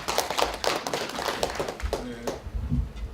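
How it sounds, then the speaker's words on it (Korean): An audience at a comparative folklore society lecture claps to welcome a presenter. The claps are fairly sparse and uneven and thin out as a voice begins speaking near the end. "박수로 환영해 주십시오"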